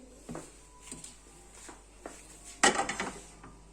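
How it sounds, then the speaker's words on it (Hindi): A pot of rose water sugar syrup for pistachio baklava is set onto a kitchen stove. A few light knocks come first, then one sharper metallic clatter with a short rattling tail, close and fairly quiet. "अब इसे हम चूल्हे के ऊपर रख देंगे।"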